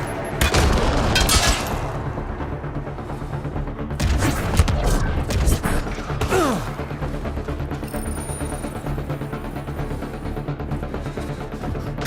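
A grenade blast in Mass Effect Andromeda erupts amid a battle, with booming impacts and scattered gunfire that trail off into a lower rumble and faint combat noise.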